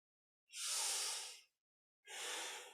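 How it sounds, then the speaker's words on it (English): Deep breathing during a kundalini yoga session: two long, close, airy breaths, each about a second, separated by a brief silence, with no talking. "Breathing deep to take in more prana"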